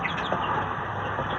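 Native Shamo fowl cluck softly in a short burst over a steady background hum, with no voices.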